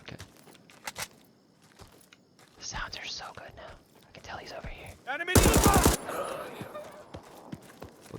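Gunfire in the tactical shooter game Incursion Red River: a single loud, sharp burst of shots cracks out near the middle, amid scattered game noises, footsteps and low whispered speech.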